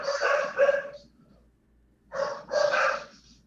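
Several dogs barking in short bursts close by, one volley, a pause, then a second louder volley, in an indoor setting.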